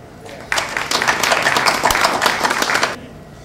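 An audience at a boxing press conference for a Super Six super middleweight final in New York claps loudly. The applause is dense and sustained for about two and a half seconds, then cuts off sharply.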